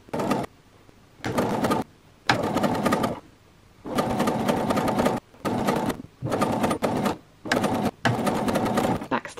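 Close up, a sewing machine stitches a garment sleeve in repeated bursts of rapid whirring broken by short pauses.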